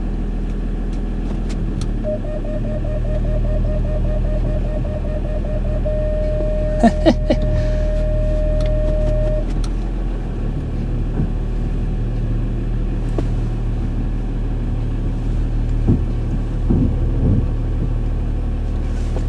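A Jeep Grand Cherokee Summit, long out of use, reverses slowly: a steady low engine rumble and drone runs throughout, with a sustained whine partway through and a few clunks and knocks near the start, fairly close and with no talk.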